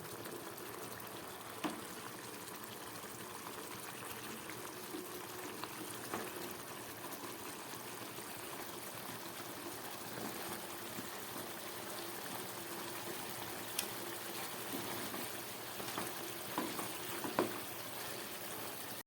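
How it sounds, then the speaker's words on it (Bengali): A pot of fish curry broth with poppy seed boils at a low, steady bubble while fried bata fish pieces are slipped in slowly. The sound is faint, with no talking. "মাছের ঝোলটা ফুটে উঠেছে এবার এর মধ্যে ভেজে রাখা মাছগুলো আমি আস্তে আস্তে দিয়ে দেব"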